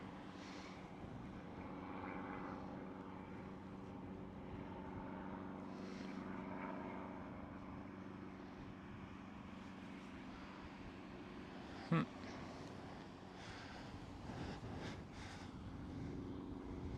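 A fixed-wing airliner taxis across the runway at Schiphol airport in Amsterdam, its engines giving a steady, moderately distant drone that holds throughout, with one brief sharp click partway through.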